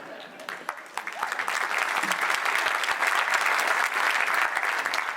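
An audience at a charity gala concert by the Band of The Royal Regiment of Scotland breaks into sustained, dense applause, swelling from scattered claps into a steady roar of hands, with voices faintly mixed in.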